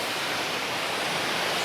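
Water pours steadily down over rocks in a landscape setting, a continuous broadband rush close by, alone and unbroken throughout.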